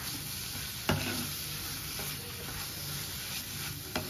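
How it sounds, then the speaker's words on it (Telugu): Grated coconut being stirred into a spinach fry in a pan, with a faint continuous sizzle under occasional soft scrapes of the spoon, close but quiet, and no talking. "కొబ్బరి అంతా బాగా కలిసేలాగా కలుపుకోండి"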